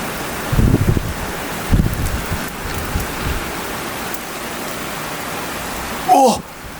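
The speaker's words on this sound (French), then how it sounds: "Wow, il y a du vent." Gusty wind during a violent August thunderstorm in Gironde, low rumbling buffets hitting the microphone in several bursts over a constant rain hiss, with a brief voice near the end.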